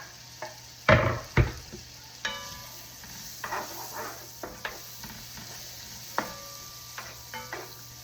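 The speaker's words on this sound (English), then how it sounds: "Get those frying up." Onions fry in butter in a pan on the stove, a soft steady sizzle under sharp clinks and scrapes of a utensil stirring against the pan, several distinct knocks spread throughout, no voices.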